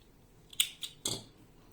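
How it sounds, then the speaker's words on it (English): Scissors snipping crochet yarn after a granny square is finished: a few crisp, quick cuts close by in a quiet room. "making 1 chain and cutting the yarn"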